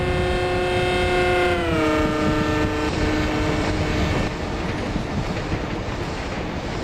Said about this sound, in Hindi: एक ईएमडी के साथ ही एक ट्रेन है जो कि आ रही है, एकदम हॉर्न बजाते हुए मस्त आ रही है